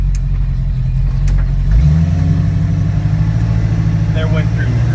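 A 1974 AMC Javelin with a Borg Warner automatic gearbox shifts into second, with a loud, steady engine drone that drops in pitch midway through the shift and settles into a lower cruising hum on the road, while someone speaks over it.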